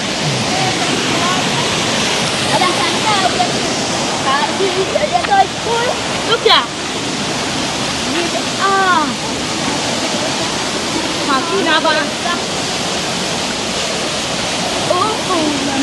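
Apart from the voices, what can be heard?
river water flowing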